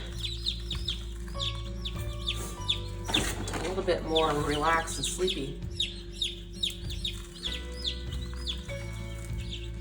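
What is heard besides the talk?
chickens clucking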